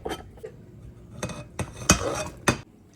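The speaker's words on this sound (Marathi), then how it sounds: "आता मी याला झाकण लावून ठेवते." A lid being fitted onto a large bottle of homemade ghee, producing a few separate clinks and knocks of the container and lid at irregular intervals, fairly close and alone.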